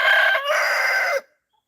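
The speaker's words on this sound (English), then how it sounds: "Start crowing." A rooster on a homestead gives one long, loud crow close by. It lasts about a second, then cuts off into silence.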